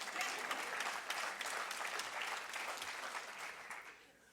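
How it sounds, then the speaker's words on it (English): An audience bursts into steady applause, a dense wash of many hands clapping that holds for several seconds before gradually tapering off, heard at a moderate distance with no talk over it. "Yeah, you can clap for that."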